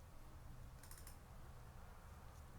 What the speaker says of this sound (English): clicking this button